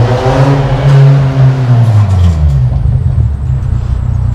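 A car pulls up close and its engine revs loudly, the pitch rising and falling in a few strong surges before settling into a steady rumble, with no voices.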